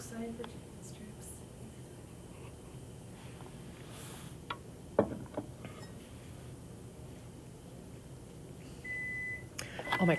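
An appliance beeps during a casual study session, with a short electronic tone near the end rising over room noise and scattered clatter, while people talk quietly in the background.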